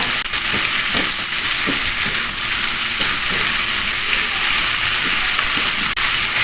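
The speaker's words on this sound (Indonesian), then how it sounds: "Kita aduk ya." Food frying in a pan (round eggplant with seasoning) as it is stirred, a steady loud sizzle throughout with soft scraping of the spatula underneath and no talk.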